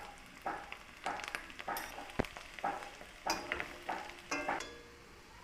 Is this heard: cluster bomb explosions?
no